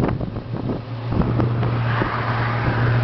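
A 351 Ram Air V8 in a Ford Mach 1 Fastback idles with a steady low rumble that firms up after a second, heard up close outdoors with some wind buffeting and no talking.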